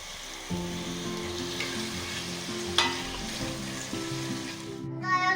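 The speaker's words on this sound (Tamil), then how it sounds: "இப்போ தக்காளி ஆட் பண்ண போகிறோம்" Tomatoes cooking in a pan for Bai Kadai style chicken dum biryani give off a steady, close frying sizzle with occasional stirring scrapes, under a low tonal background hum and without speech.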